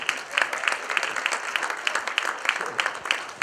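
Youth summit audience applauding, a steady patter of many hands clapping together at moderate loudness, with no talking over it.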